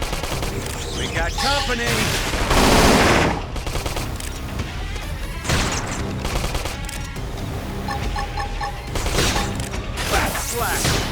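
Rapid gunfire and automatic bursts ring out during a Xenoblade Chronicles X: Definitive Edition battle, loud and dense with booming hits, while voices talk over the combat.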